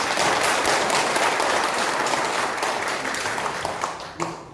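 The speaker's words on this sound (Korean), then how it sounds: "큰 박수 부탁드리겠습니다." An audience at a candidate's policy presentation gives steady, dense applause that tapers off toward the end, loud and close in a room, with a brief voice at the finish.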